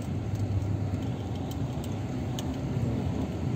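Car driving along a rough, bumpy road on the way to a dog show, with a steady low engine and road rumble and occasional light rattles inside the cabin.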